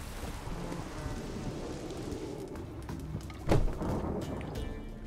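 Steady rain falls in The Witcher 3: Wild Hunt, a continuous wash of drops with a brief crack of thunder partway through and no speech.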